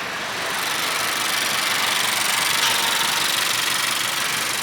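Honda Accord 2.0T engine fitted with a PLM downpipe idling steadily, a continuous broadband hiss-like exhaust drone at moderate level with no talk over it.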